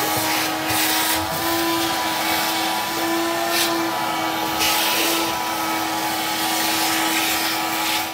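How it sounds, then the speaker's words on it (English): A vacuum cleaner runs continuously at close range, cleaning out a DeLorean's fuel tank, a steady whining roar with faint rubbing and scraping as the nozzle moves. "so we'll start with the vacuum cleaner."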